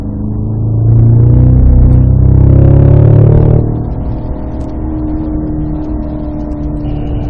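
A Cadillac CT5-V Blackwing with a six-speed manual accelerates on a wet circuit at Spring Mountain, Pahrump. Its engine roars loud and close, the pitch climbing for a few seconds before dropping back to a steadier drone.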